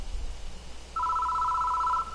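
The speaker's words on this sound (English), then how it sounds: "Ring ring. The phone's ringing." A telephone rings in the horror adventure game Death Mark, a steady electronic bell tone that starts about a second in and holds for roughly a second before cutting off, alone over a low background hum.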